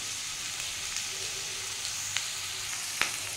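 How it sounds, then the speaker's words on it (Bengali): Onions frying in a pan give a steady, soft sizzle up close, with a few sharp pops breaking through the hiss and no talking over it. "পেঁয়াজটা বন্ধুরা লাল লাল করে একটু ভেজে নেব।"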